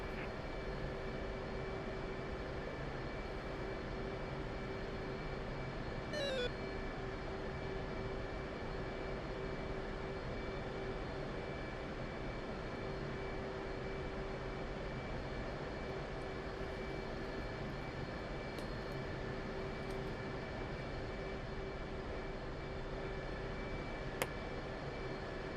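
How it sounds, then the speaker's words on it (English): F/A-18C jets on an aircraft carrier deck in DCS World run their engines for catapult launches, a steady loud turbine roar and whine holding throughout, with a brief sweeping tone and a sharp click near the end. "We gotta watch all these planes taking off"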